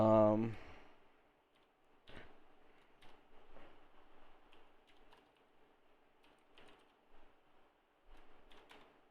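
Computer keyboard typing during a Python programming practice lab, soft irregular key clicks in short bursts at moderate distance after a brief loud sound at the start.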